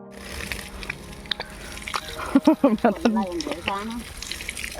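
Water is poured over a tethered animal during its bath on a hot day. A steady wash of splashing runs under a man's close, ongoing talk.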